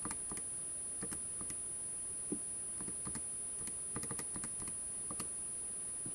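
Numbers typed on a computer keyboard, a quiet irregular patter of separate key clicks spread across several seconds, some quick pairs and short pauses, close and faint with no talking.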